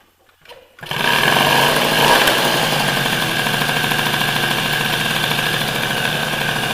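A Peugeot 103 SPX-R moped engine sputters briefly, catches and settles into a steady, buzzing two-stroke idle that holds close and loud for several seconds.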